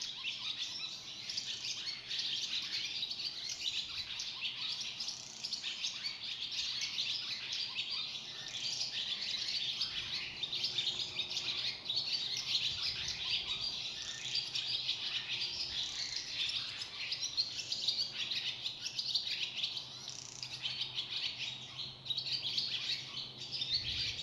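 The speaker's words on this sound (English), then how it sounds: "chirping of these birds went almost without interruption" Small birds chirp and tweet almost without pause, a busy, continuous chorus of high calls heard at a moderate distance with a faint insect-like background, no voices.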